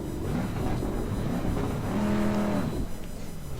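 A race car in Assetto Corsa Competizione spins donuts on gravel, its engine droning loudly and rising into a sustained rev before easing off, with no speech over it.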